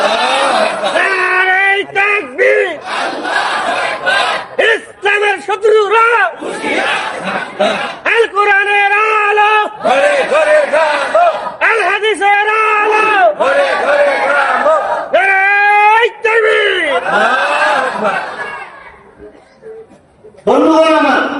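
Crowd at a Bangla waz mahfil religious gathering roaring the takbir response in loud repeated chants, alternating with a preacher's amplified calls, the massed voices swelling and falling for nearly twenty seconds before a short pause.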